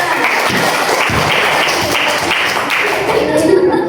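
A group of children claps together in a room, a loud, dense patter of hands that stays steady throughout with faint chatter and giggles mixed in.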